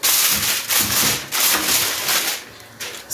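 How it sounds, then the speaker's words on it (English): Aluminium foil crinkles and rubs as it is laid over a baking tray for potato wedges, giving loud, close bursts of crackling that swell and fade in several waves with no talk. "I'm going to use aluminium foil"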